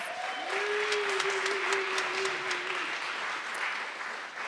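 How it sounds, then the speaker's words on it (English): Audience applause at the Boulder Fringe Festival 2019 opening ceremony, a steady, moderately loud wash of clapping that holds for about four seconds and then begins to thin, with a faint whistle-like tone near the start. "Let's give Lisa a round of applause."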